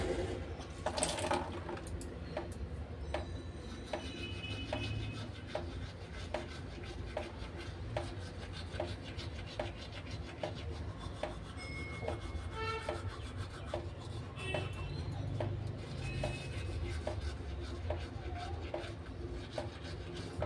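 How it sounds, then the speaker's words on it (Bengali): A toothbrush scrubs teeth in a steady, continuous rubbing rhythm that lasts throughout, close and fairly quiet with no talking. "তো চলো ব্রাশ করা স্টার্ট করি।"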